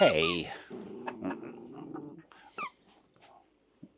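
A dog whimpers and growls in a high, whiny burst, then low rumbling growls follow, with a few short yips trailing off into quiet.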